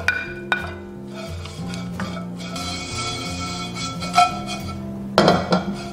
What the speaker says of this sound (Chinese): 接着直接下入虾皮、虾仁煸炒